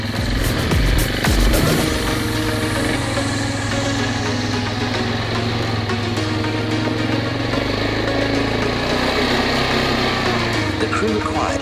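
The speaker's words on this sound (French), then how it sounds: "je finis de monter le quad" A quad bike (ATV) engine labours steadily while climbing uphill, its continuous droning revs staying fairly loud and close throughout, with a brief burst of voices near the start.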